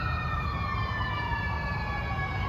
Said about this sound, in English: Oh, there's a siren.